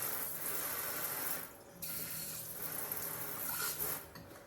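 Cold water runs steadily from a kitchen tap into a container, a close hissing stream that briefly cuts off and resumes, then tapers near the end, with no talking.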